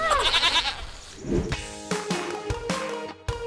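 Several goat bleats, wavering and nasal, sound close by in a quick series, with some background noise.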